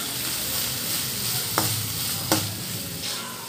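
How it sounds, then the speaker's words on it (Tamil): Chopped onions and garlic sizzle steadily in a pan for cabbage rice while a utensil stirs them, with a couple of sharp scraping clacks against the pan. No one speaks. "ஸோ அதையும் நம்ம இதில் சேர்த்துட்டு நல்லா வதக்கிக்குவோம்."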